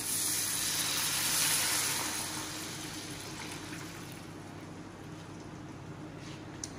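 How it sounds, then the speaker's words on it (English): Water pours into a cooking pot of sautéed seasonings, a steady close hiss that swells early and then settles into a softer, even flow. "I'm gonna add some water"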